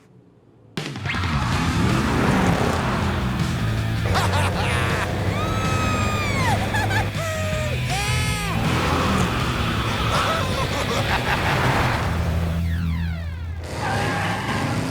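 Cartoon cars race with revving engines, screeching tires and cheering, whooping voices over a loud, continuous animated action score, set in a LEGO City scene.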